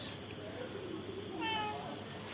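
A cat meows softly at night, a brief drawn-out call rising near the end over a faint steady background hiss.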